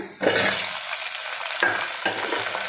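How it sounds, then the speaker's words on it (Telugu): Onions and tomatoes frying in a pan: a loud, continuous hiss and sizzle with a burst as food drops in, plus a couple of stirring scrapes, no talking. "ఈ విధంగా వేయించుకున్న తర్వాత టమాటోస్ వేస్తున్నా"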